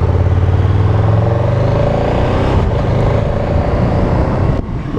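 A KTM Super Duke GT motorcycle engine roars loud and close, its revs climbing steadily as the bike pulls away, then fading slightly at the end, with no talking.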